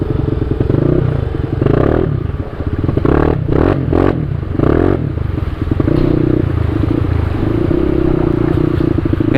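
Scooter riding through a flooded, pothole-damaged city street, its engine droning close and steady with clattering and splashing bursts midway as the wheels hit rough spots, no talking over it.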